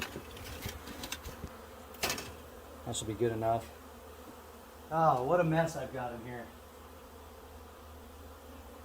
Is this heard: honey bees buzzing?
yes